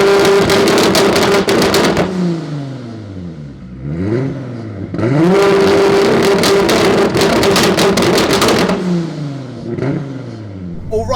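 A Mark 6 VW Golf R fitted with an R32 turbo engine accelerates hard in repeated pulls, the engine note climbing, dropping at each shift and climbing again, loud and close, with a brief lull between bursts.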